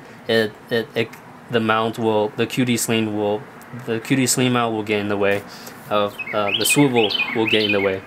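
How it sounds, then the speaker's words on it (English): A bird sings outdoors with bright, high chirps that come through behind someone talking steadily nearby, growing more noticeable toward the end. "That's some bird singing."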